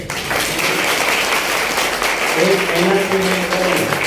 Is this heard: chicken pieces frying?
no